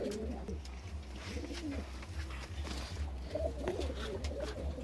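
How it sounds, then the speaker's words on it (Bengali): Pigeons kept by a fancier for breeding coo softly in repeated low, throaty phrases over a steady background hum, with no voices. "পায়রা দেখুন কেমন।"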